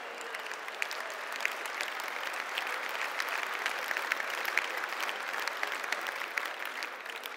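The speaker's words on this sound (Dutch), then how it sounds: "Krijgt er nog een applaus voor ook." A crowd at a New Year's party speech breaks into continuous applause, heard from some distance as a soft, uniform patter of many hands with a few sharper claps poking through.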